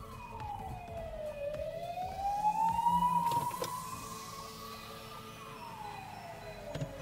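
Police car siren passing on the road, its wailing tone rising and falling as it sweeps past, loud and close over low traffic rumble with no talk.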